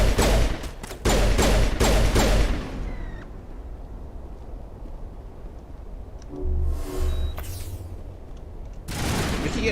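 Mass Effect gunfire aimed at explosive barrels: a rapid burst of loud close shots opens the scene, followed by a quieter stretch with faint game noise, then more bursts and a booming impact near the end.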